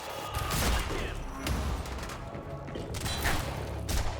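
Pistol shots ring out in the video game Quantum Break, a few loud sharp cracks spread over a few seconds amid busy in-game action noise.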